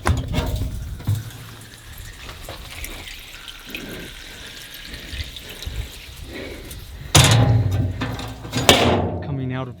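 Water flows out of the ground at an old Wild West ghost town site near Humboldt City, a steady trickling and gurgling wash under some handling noise, with louder splashy bursts near the end.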